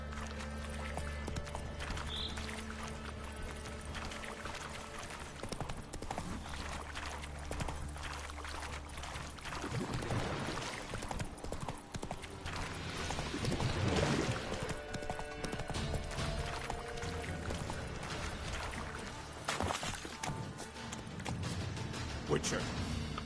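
Horse hooves from The Witcher 3 clop steadily through the whole stretch, mixed with game ambience and occasional voices.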